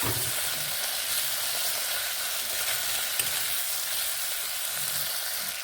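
Tomatoes and potatoes frying together in a pan make a constant close sizzle and crackle, with faint stirring scrapes and no talking.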